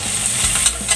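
Onion frying in a pan for a vegetable egg omelette, a brief close hiss and sizzle with light stirring scrapes.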